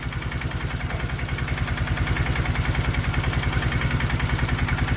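A Polaris engine idles steadily after a new carburetor install, with a close, even, rapid putter and a faint mechanical clatter throughout.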